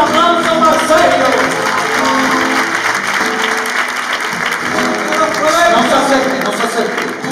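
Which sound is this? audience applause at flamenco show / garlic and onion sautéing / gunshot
audience applause at flamenco show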